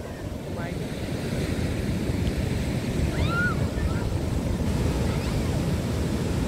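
Sea waves roll onto Kondura beach at Vengurla, a black-rock shore, as a continuous loud surf roar mixed with wind buffeting the microphone, with a few faint bird calls above it.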